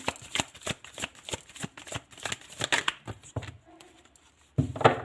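Tarot cards shuffled by hand in quick riffling bursts with a steady, crisp rhythm, close and fairly loud, a brief lull near the end, then one last sharp flurry.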